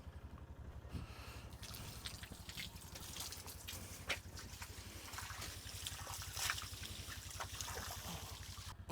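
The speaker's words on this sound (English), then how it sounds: "So I better grab a water hose and take care of that real quick." A water hose runs and splashes over a mess, a faint continuous trickle and spatter with a low rhythmic pulse beneath it.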